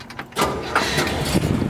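A 1965 Pontiac GTO's 389 engine cranks and catches, settling into a steady idle after a brief mechanical clatter, heard up close.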